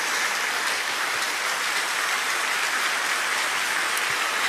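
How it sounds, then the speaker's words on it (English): A church congregation clapping loudly and continuously, a thick roaring wall of applause from many hands that holds steady without pause. "The louder you clap, the better."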